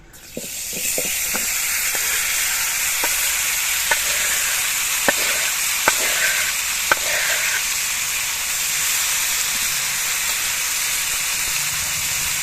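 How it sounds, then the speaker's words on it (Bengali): Loud, steady sizzling of a cauliflower mixture frying in a hot wok, with a few sharp taps and clinks early on, close by and without talk. "কড়াইটা গরম হওয়ার পর আমি ফুলকপি মাখাটা দিয়ে দিচ্ছি।"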